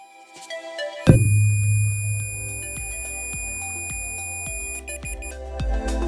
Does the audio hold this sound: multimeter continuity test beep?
yes